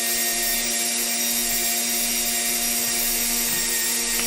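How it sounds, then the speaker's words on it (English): A Dremel rotary tool with a freshly changed bit grinds in a steady high-pitched whine with a constant motor hum, close and uninterrupted for several seconds. "All right, now we changed our Dremel bit."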